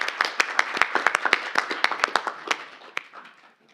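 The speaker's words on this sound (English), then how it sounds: "Give it a clap" Clapping from a small group at a council meeting, distinct sharp hand claps in a quick uneven rhythm that thin out and fade over a few seconds.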